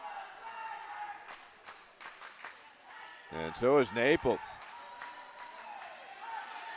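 A pickleball team shouts a short rhythmic chant together at the close of a match at an indoor event court, loud bursts over crowd noise while a commentator speaks.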